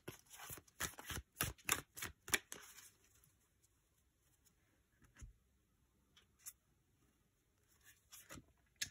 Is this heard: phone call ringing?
no